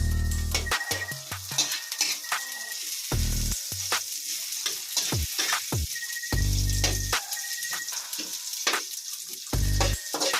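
A pan fries with a bright crackling sizzle, broken by repeated loud scraping and clanking stirs of a utensil against the metal, all close and without voices.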